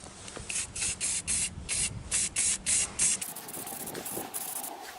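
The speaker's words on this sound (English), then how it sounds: "Now we'll prime it and then paint it." Spray can bursts of primer onto a welded metal chair, about nine short rhythmic hissing sprays close up, then quieter rustling and handling noises.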